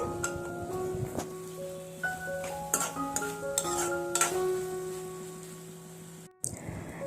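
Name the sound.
stirring soft cooked tomato masala in pan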